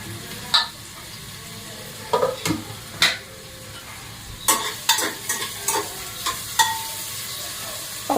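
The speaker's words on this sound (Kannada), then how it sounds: "ಆ ಕಡೆ ಈರುಳ್ಳಿನೂ ಫ್ರೈ ಆಗ್ತಾ ಇರುತ್ತೆ" Onions frying in a pan while a spoon stirs them, a soft continuous sizzle punctuated by about a dozen sharp scraping stirs and clanks, close and alone.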